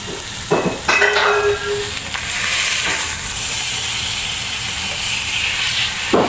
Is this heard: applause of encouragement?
no